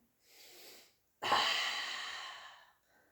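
A breath taken during a Pilates mat exercise: a soft short breath, then after a brief pause a louder, longer airy inhale or sigh close to the microphone, fading out.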